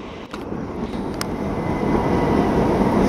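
Gatwick Express Class 387 electric train passing through East Croydon station, a broad rushing roar that builds and holds steady, with a couple of faint clicks near the start.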